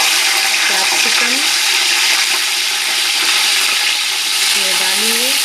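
Green chillies and capsicum fry in hot tempering oil for fish biryani, giving a loud, continuous close hiss with a few faint voice fragments rising above it.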